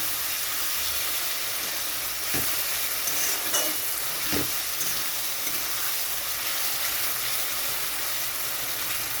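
Prawns sautéed with spices in a pan, a steady close sizzle and hiss with a few scraping stirs and spatula knocks.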